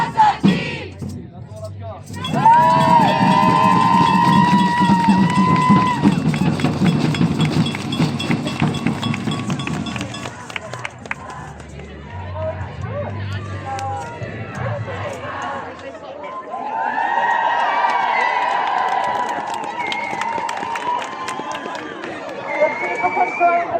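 Crowd at the 2025 Nottingham Women's March in Nottingham, a dense mass of voices with sustained shouting and chant-like bursts, loud and close, dipping briefly before swelling again.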